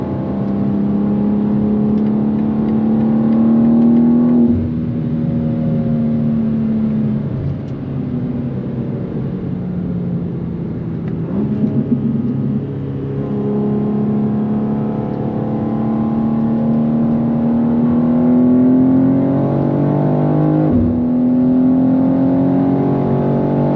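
A 2024 BMW G87 M2 accelerates repeatedly during a spirited highway drive, the engine whine rising through several gears with brief dips at each shift, loud and close from inside the cabin.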